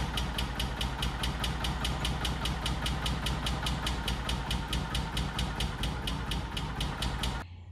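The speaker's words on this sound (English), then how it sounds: "It's got that real slow idle when it first starts." A Kawasaki Mule 550 utility vehicle engine, a barn find on its first start, idles slowly and close with an even, rapid chugging tick that stops just before the end; no talking.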